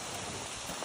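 A storm in Western Connecticut: dense, steady rain with hail and wind, a continuous broadband roar without pause over a short stretch.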